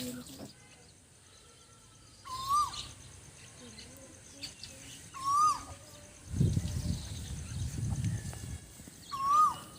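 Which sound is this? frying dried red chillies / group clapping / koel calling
koel calling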